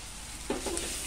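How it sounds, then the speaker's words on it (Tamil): Onions sauté in a pan with a steady, hissing sizzle, close by, and a couple of soft stirring scrapes come through partway. "வெங்காயம் நல்லா வதங்கிட்டு இந்த நேரத்தில் நான் இஞ்சி பூண்டு பேஸ்ட்டு"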